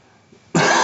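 A single sharp cough bursts out abruptly after a near-silent lead-in, close and loud, cutting off at the end.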